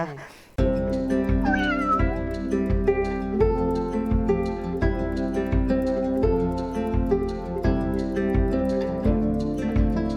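A cat meows over steady, rhythmic background music with pulsing beats throughout.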